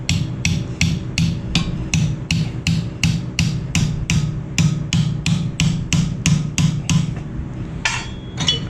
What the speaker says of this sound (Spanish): lo podemos golpear un poco con el martillo